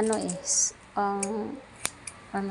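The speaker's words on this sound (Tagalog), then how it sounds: "ito yung gunting nila" Scissors from an emergency first aid go bag handled close by, brief metallic snips and clicks between stretches of talking.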